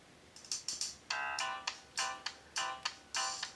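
Melodic tones play from the built-in speaker of a Samsung ATIV Odyssey phone, a series of short bright chime-like notes in a steady rhythm, moderately quiet and heard alone.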